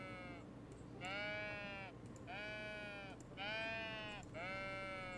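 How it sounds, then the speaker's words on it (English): Sheep in the video game Tiny Glade bleat four times in a steady rhythm, each wavering cry about a second long, over a soft background bed with no talk. "Yes, the sheep are very cute, by the way."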